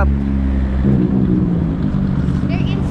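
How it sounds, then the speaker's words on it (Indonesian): A Nissan Skyline GT-R R34 engine rumbles nearby with a deep, throaty idle that swells slightly as it revs, steady and close. "Mobil apa itu? Suaranya, GTR R34."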